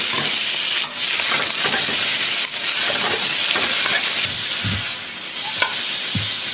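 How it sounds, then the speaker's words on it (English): Pork belly searing in a hot pan with large pieces of ginger in a restaurant kitchen: a loud, constant sizzle fills the clip, with a few brief scraping and knocking sounds from the pan. "So just give the pork belly a good sear."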